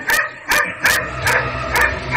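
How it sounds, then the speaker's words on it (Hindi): Dog barking loudly and repeatedly as a horror audio story sound effect, five sharp, close barks at a steady pace with a faint whining undertone. "सत्यम के कमरे से जोर जोर से किसी के भौंकने की आवाज आई"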